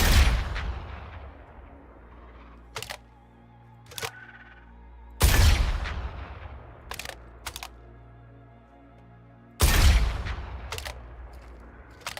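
Video-game gunfire at aerial targets, loud sharp bursts at about 0, 5 and 10 seconds, each trailing off, with softer scattered pops between and no talking.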